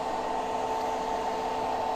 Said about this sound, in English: Turn on the compressor.